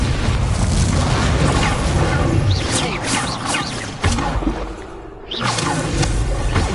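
Incendio fire spell cast in the video game Hogwarts Legacy, a loud roaring burst of flame with booming whooshes and crackling impacts over dense battle noise, briefly dipping before another surge.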